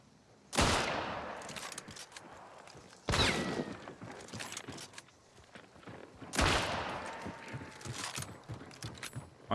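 Three sharp, loud gunshots from Hunt: Showdown, spaced a few seconds apart, each with a ringing tail, amid quieter rustling and mechanical clicks in between.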